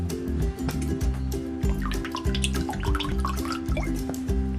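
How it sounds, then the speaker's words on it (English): Lemon juice is poured into a kushari sauce of vinegar and water, a soft liquid trickle and drip beneath steady, loud background music with stacked sustained tones. "And then you're going to go ahead and add lemon juice."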